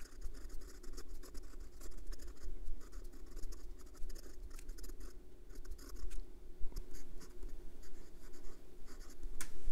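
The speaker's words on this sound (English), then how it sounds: "and for some reverse writing" A fountain pen nib on an ASC Studio Italian resin piston filler scratches across paper in short, continuous strokes, close and crisp with a fine papery texture, no voices.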